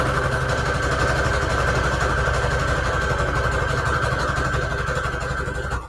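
A sewing machine stitching junk journal embellishments runs in one continuous, loud mechanical whir with a fine rapid pulse, holding steady for several seconds before cutting off at the end.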